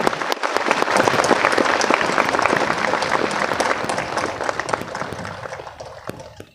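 Loud, sustained applause from a large audience at a national-level network marketing meeting in a convention hall, dense clapping throughout that gradually thins and fades toward the end.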